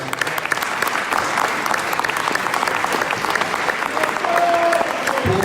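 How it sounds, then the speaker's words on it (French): A crowd at an interprofessional general assembly of protesters applauds, a sustained, even roar of many hands clapping that grows slightly louder near the end, with a few voices faintly mixed in. "je voudrais que vous vous applaudissiez pour ça"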